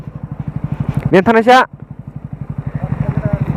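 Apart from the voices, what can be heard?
motorcycle engine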